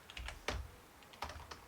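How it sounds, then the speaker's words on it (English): Typing on a computer keyboard while writing code, a few quick, quiet keystrokes in two short bursts with a pause between, close and alone. "It's quite some typing"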